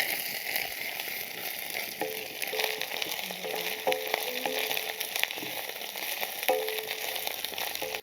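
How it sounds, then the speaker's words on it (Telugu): Ginger-garlic paste frying in oil with onion and green chilies for a Gunth Gobi curry, giving an even, moderate sizzle with occasional faint clinks of a utensil against the pan, and no talking. "దీంట్లో అల్లం వెల్లుల్లి పేస్ట్ వేస్తాను. ఇది పచ్చివాసన పోయేదాకా వేయించుకుందాం."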